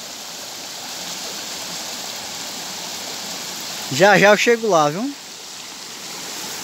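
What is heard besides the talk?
waterfall and rushing stream water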